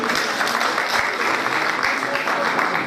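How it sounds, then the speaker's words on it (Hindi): A school function audience breaks into vigorous applause, a thick, continuous roar of many clapping hands with a few sharper claps standing out, loud and steady throughout. "तो एक बार जोरदार तालियां"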